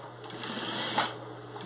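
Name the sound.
sewing machine stitching a placemat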